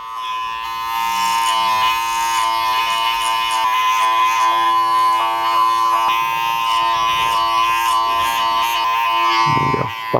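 Electric hair clippers fitted with a number 2 guard buzz steadily and loudly throughout, running continuously at close range with a sharp change near the end, with no talking.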